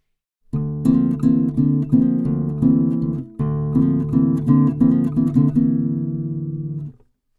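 A strummed guitar chord repeated in a steady rhythm, ringing clearly, with a brief pause midway before the strumming resumes and fades out.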